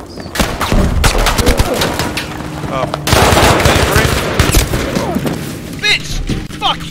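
Rapid automatic gunfire crackles in the Battlefield V shooter game, bursts of machine-gun fire mixed with louder booming shots, close and loud, continuing in dense volleys through the whole stretch.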